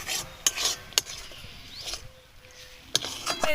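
A spatula stirs and scrapes a ridge gourd peel paste drying out in a pan, giving a few sharp metallic scrapes and rasping rubs separated by quieter pauses.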